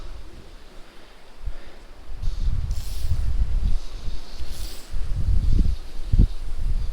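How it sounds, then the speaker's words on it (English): Breezy wind blows outdoors beside a trout stream in fall, a steady broadband rush with low rumbling gusts buffeting the microphone throughout, no voices. "A little bit breezy today"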